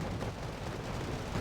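A dense, continuous roaring rumble from a Thunderbolt aircraft gun run in the video game Wargame Red Dragon, steady and fairly distant-sounding, with no talk over it.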